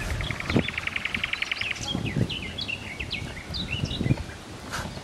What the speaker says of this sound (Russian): Чувствуете, как птички?